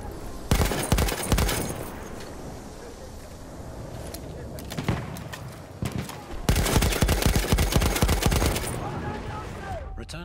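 An MG 08/18 machine gun fires in a World War I video game at Tahure, with loud sustained bursts, a pause with scattered distant shots, then another long burst.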